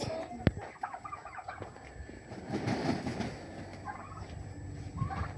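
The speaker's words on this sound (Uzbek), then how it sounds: "Kurkalar tuxumini cho'qib tashlayapti nimagadir" Poultry at a small farm: turkeys gobble and cluck in short repeated bursts at moderate distance, with other fowl calls mixed in and a sharp knock near the start.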